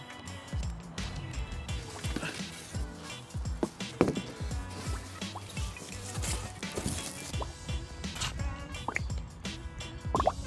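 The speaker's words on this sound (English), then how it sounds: "Burping out the air bubbles." Water in the coil of a wood-fired hot tub burping out air bubbles, irregular drips, plops and gurgles at close range, faint and uneven over a quiet background.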